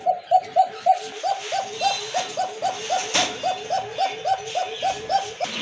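A pair of pigeons, among them the young of a Jharna satin, give a loud, close, rhythmic cooing, pulse after pulse at an even pace for the whole stretch, with faint stirring behind.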